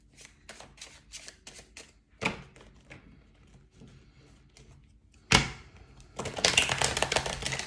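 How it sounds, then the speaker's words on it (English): Tarot cards are riffled and shuffled in quick bursts of crisp flapping clicks, followed by a few faint taps and slides, then a sharp snap and a louder, sustained riffle near the end; no one speaks. "I'm just going to pull the cards again."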